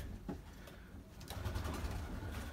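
Breeding pigeons in a loft with eggs, quietly cooing in low repeated calls over a steady background rumble, no speech.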